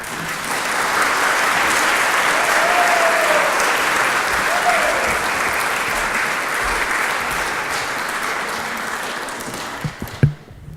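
Sustained applause from a conference audience at a summit welcoming a keynote speaker, a loud even wash of clapping that tapers off at the end with a few bumps near the microphone.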